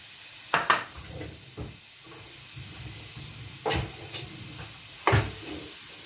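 Carrots dropped into hot oil in a pan give a few sharp sizzling bursts over a steady low frying hiss, with quieter crackles between the bursts and no one talking.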